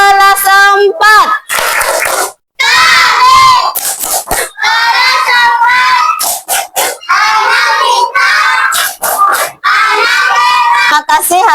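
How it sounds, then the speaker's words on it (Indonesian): A fourth-grade primary school class performs a clapping chant in their classroom, the children shouting rhythmic lines in unison broken by bursts of hand claps and brief pauses, loud and close. "Tepuk kelas 4."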